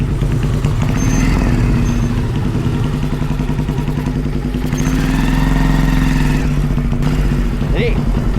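Chopper motorcycle with a foot clutch, its engine idling and rumbling steadily with mechanical clatter as it is shifted into first gear; a voice talks faintly in the background.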